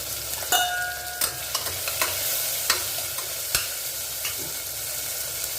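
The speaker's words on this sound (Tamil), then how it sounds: "இந்த பச்சை மிளகா இஞ்சி பூண்டு தட்டி போட்டது வதங்கட்டும்" Crushed green chili, ginger and garlic sauté in a pan for a vegetable biryani, giving a steady close sizzle broken by several sharp spoon scrapes and stirring knocks, with no voices.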